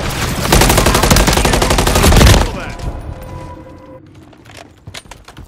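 Sustained, loud automatic gunfire in a Modern Warfare 3 multiplayer match, a dense rattling burst lasting a couple of seconds before tailing off into scattered shots and game effects.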